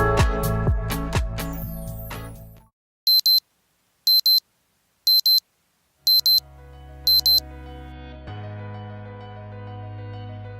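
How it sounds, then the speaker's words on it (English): A bedside alarm clock sounds early in the morning, first a tinkling melodic tone, then five evenly spaced bursts of sharp beeping separated by short silences, followed by a low steady hum. "It's 5:45 and the alarm's gone off"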